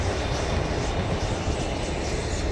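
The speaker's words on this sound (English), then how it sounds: "There's the train." A passing train gives a loud, steady rumbling roar of rail cars rolling by close at hand, continuous for the whole stretch with a faint rhythmic clatter.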